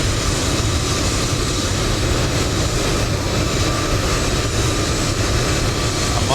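Steady, loud engine drone of a PMDG airliner during pushback in a flight simulator, a continuous hum without breaks or voices.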